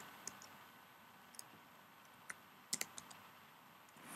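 A few sparse, faint keystrokes tap on a computer keyboard while building a website in Dreamweaver. Isolated clicks come at irregular intervals over a quiet, hissy room.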